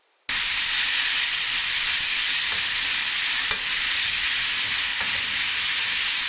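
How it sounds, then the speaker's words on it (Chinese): Marinated pork shreds stir-frying in very hot oil, a loud, steady sizzle that bursts in suddenly and holds with constant hiss, a few faint scraping clicks of the spatula along the way. "爆炒。"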